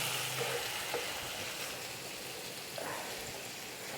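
Crab roast masala, cooked with coconut oil and mustard seeds, being stirred and heated in a pan, giving a soft, steady sizzle with faint scraping of the stirring, quiet and close.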